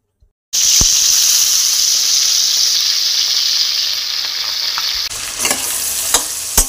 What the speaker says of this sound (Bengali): চিকেন পিসগুলোকে প্রথমে মিডিয়াম ফ্রাই করে তুলে নেব